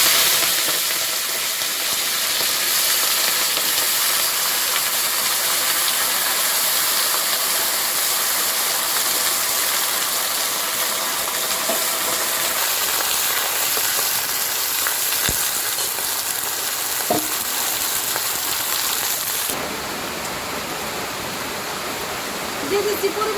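Vegetables hit hot oil seasoned with panch phoron for khichuri, setting off a loud, dense, continuous sizzling hiss that stays close and steady throughout, easing slightly toward the end.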